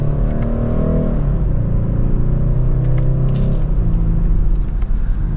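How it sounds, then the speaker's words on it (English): A 2025 BMW 430i Coupe in sport mode pulls hard in second gear, its engine note rising in a steady, loud drone with a brief dip near the one-second mark as revs settle and climb again, heard from inside the cabin. "second gear, here we go."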